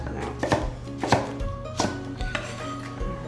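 A knife chops sweet potatoes on a board, with about eight sharp, evenly spaced thuds close up and no talking.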